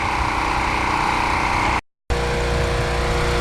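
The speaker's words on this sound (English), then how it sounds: "We still got the generator running" A portable generator at an outdoor shed build runs loud and steady with a continuous engine drone, broken by one brief silent gap near the middle.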